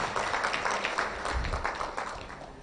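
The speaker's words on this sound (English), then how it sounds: "Let's appreciate him with a clap as he comes as well." An audience at a packaging organization's official launch event claps to welcome a speaker, a dense steady wash of applause that stays close and fades slightly toward the end.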